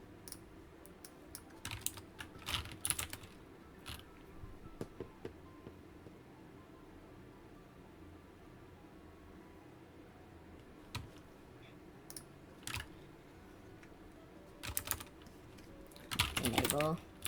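A computer keyboard being typed on while configuring a router, bursts of quick clicking keystrokes separated by quiet pauses, with a dense flurry near the end, close but soft.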